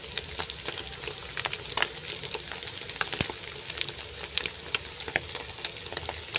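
Spices with a spoonful of garam masala, chilli powder and salt fry in a hot pan, a dense close sizzle broken by frequent sharp scrapes and clicks of stirring, steady throughout with no talking.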